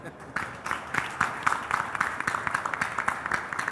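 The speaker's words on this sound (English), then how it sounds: "Please clap very loudly so that I feel encouraged." An audience at a CEO panel discussion claps after a short quiet moment, the applause building into a crisp, dense patter of many hands close by for several seconds.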